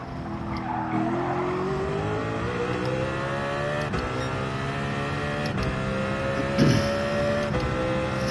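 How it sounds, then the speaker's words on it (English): Race car engine in Gran Turismo 7 holding a steady high-pitched drone with a rising pitch sweep, loud and continuous, with tire squeal and skidding layered in and a brief scrape near the end. "Forced him to rev it a bit now"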